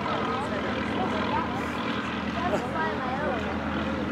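A vintage WWI-era biplane flies at an airshow, its engine droning steadily at moderate distance under a continuous background murmur.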